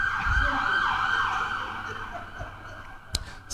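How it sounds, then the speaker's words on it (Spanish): An ambulance siren wails past outdoors in Tel Aviv, its rising and falling tone loud at first and then fading as it moves away, ending with a couple of sharp knocks. "Perdón que está pasando la ambulancia."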